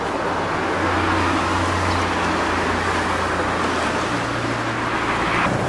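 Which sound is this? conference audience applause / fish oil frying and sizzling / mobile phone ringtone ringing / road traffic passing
road traffic passing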